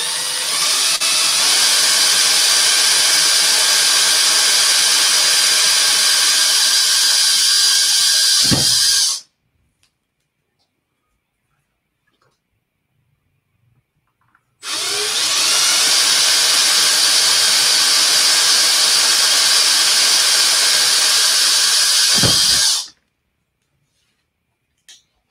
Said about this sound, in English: So we'll go ahead and drill those out.